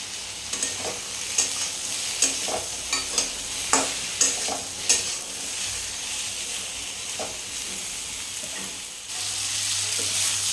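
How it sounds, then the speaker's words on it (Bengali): Ridge gourd and potato pieces sautéing in a hot pan, steady sizzle with repeated rhythmic stirring scrapes and taps, close up with no talk. "ঝিঙে আলুটা দিয়ে ভালো করে কষিয়ে নিয়েছি"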